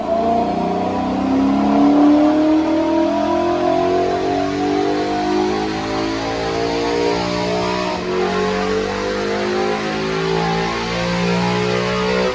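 A 2014 Mustang GT with bolt-on parts revving through a dyno run, a loud sustained engine roar climbing in pitch over several seconds, steady and close with no voices.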